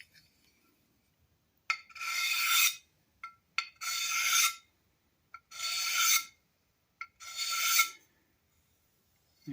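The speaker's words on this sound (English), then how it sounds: "You could take a file and just a little bit of an angle, run it across the corner just to smooth out any sharp edges." Four separate rasping strokes of a metal file, drawn at an angle across the corner edges of a vintage 1940s Sargent hand plane, each close and crisp, with short silent pauses between them.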